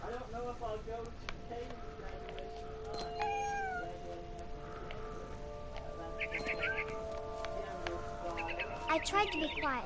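A cat meows repeatedly in the What Remains of Edith Finch video game, with drawn-out, rising and falling cries up close, plus a few quick bird chirps near the end over a soft tonal background.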